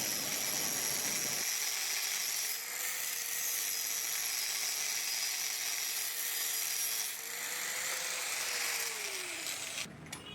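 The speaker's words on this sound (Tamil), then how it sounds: "எக்ஸஸாக இருக்கக்கூடிய அந்த இரும்பு ராடை வந்துட்டு கட் பண்ணி எடுத்துருவோம்" Excess iron rod is cut with a loud, continuous whining power cutter for a swing build; a steady high-pitched grind holds close and unbroken for most of the stretch, no talking.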